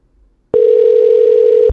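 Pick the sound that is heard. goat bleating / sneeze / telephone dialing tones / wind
telephone dialing tones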